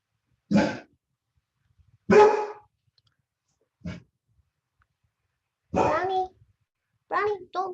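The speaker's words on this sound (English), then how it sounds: "don't bark" A dog barks at home during an online math tutorial, giving five short, sharp barks spread a couple of seconds apart, fairly close, with silence between them.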